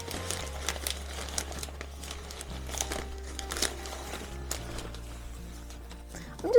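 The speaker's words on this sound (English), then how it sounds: "I'm just going to tie a very simple shoelace type bow" Ivory ribbon with gold trim is tied into a simple shoelace-style bow on a paper-wrapped flower bouquet, making soft continuous crinkling and rustling with scattered small crackles, close and fairly quiet.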